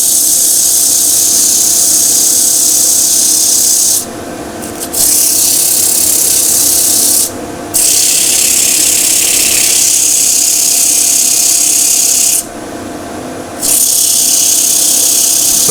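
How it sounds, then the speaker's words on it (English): Steady abrasive rasp of 100 grit sandpaper against a wooden kintsugi bowl, loud and continuous with three short pauses. "So I'm going to start with 100 grit, work my way through."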